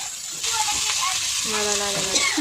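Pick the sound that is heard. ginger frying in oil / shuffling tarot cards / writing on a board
ginger frying in oil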